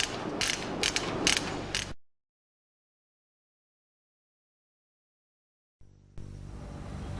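A ratchet screwdriver from an automotive workshop clicks in a quick, close series of crisp ratchet ticks for about two seconds, followed by silence and then a steady background hiss.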